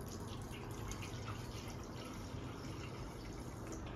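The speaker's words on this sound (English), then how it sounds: "pour it into the blender." Water streams steadily into a blender jar, a continuous splashing pour with light dripping textures throughout.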